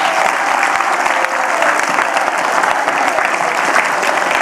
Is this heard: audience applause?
yes